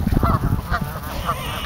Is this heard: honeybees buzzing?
no